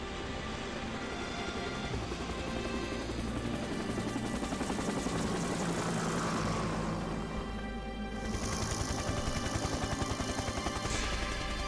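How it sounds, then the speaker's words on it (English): A helicopter arrives in Resident Evil 3: Nemesis (1999). Its steady rotor chop is loud and continuous, and it swells as the craft draws nearer. "Chopper's coming in!"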